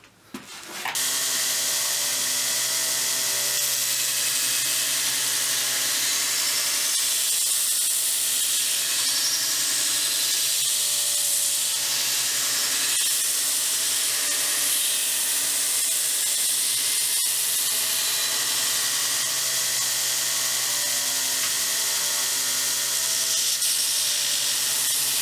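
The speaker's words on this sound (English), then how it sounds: "I'm just going to use it to demonstrate just how stable this grinder actually is." A workshop grinder runs steadily on a large project, a continuous bright hissing whine that holds loud and even throughout with no one speaking.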